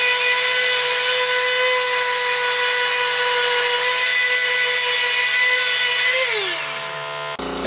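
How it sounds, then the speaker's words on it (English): A power sander runs loud and steady on a wooden electric guitar body, a sustained high whine with a buzzing hum beneath, then winds down in pitch near the end before cutting off. "when you're sanding, people tell you usually to keep your sander flat so you're not putting dips in"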